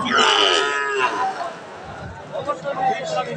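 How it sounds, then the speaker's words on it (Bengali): A Holstein Friesian dairy cow at a cattle market gives a loud, close, drawn-out moo, followed by lowing and the babble of people talking nearby. "হলস্টাইন ফ্রিজিয়ান গাভীটা আর ওলানে মাশাল।"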